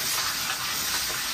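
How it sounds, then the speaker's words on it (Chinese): Pork belly stir-fried with scallion, ginger, garlic, bay leaf and cinnamon sizzles and hisses steadily in a hot wok, a dense close frying noise with no talk. "下入葱姜蒜，香叶桂皮，继续翻炒。"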